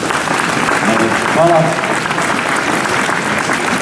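Audience applause fills a ceremony in Ljubljana marking its European Green Capital title, a steady dense clatter of many hands throughout, with a brief spoken word from the stage over it.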